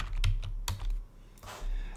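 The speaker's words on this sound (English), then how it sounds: "So typing shrink wrap" Several sharp computer keyboard clicks tap out in short bursts, close and quiet, with brief gaps between the keystrokes.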